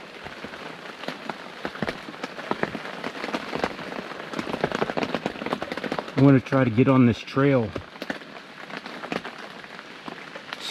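Steady rain patters on surfaces and foliage along a Missouri whitetail hunting trail, a dense, constant drizzle of drops, while someone speaks quietly over it.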